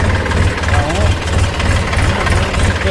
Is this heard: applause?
no